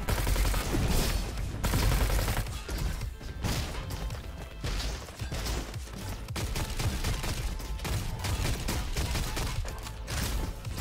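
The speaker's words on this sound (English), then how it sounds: "this grenade launcher sucks" A grenade launcher in Roboquest fires repeatedly in a loud, chaotic run of punchy shots and crashing impacts, layered over steady game action for several seconds.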